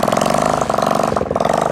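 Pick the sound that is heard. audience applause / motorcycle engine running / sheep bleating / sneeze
motorcycle engine running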